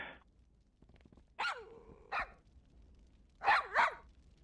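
A dog in World of Warcraft barks several times alone, with sharp yelping barks and a low growling whine between them, moderately close over a quiet game background.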